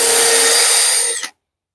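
A power drill drives pocket screws into wood during a workbench build, one steady whirring run that holds for about a second and then cuts off abruptly to silence.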